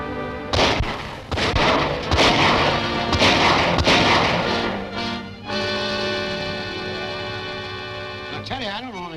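Gunfire in a 1939 Dick Tracy G-Men film serial as men open fire on arrivals coming ashore, with several sharp, loud bursts and volleys over the first few seconds, blended with dramatic orchestral music that carries on after the shots stop.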